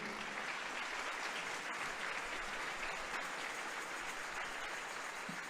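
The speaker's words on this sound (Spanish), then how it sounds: "¿Alguien le puede dar una ofrenda de palmas al que vive?" Sustained, even applause from a church congregation during a sermon, dense and continuous throughout with no voices rising above it.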